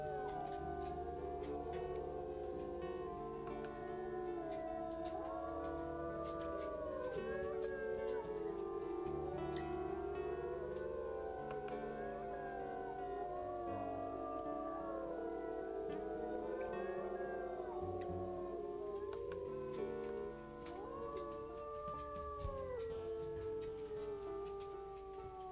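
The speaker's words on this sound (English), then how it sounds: "We're going to do some howling and see if we can't take it over." Several wolves howl together in the video game WolfQuest, long rising and falling tones overlapping in a steady chorus that fills the whole stretch without pause, with no talking.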